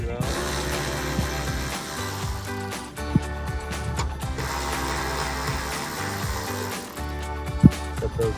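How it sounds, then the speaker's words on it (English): A ratchet fitted with a 10 mm socket backs out the top headlight bolts on a 2005-2011 Toyota Tacoma, giving close, steady rapid clicking and whirring that runs almost continuously, with a couple of sharp metallic ticks. "you're gonna grab your 10 millimeter socket, and take these top two out."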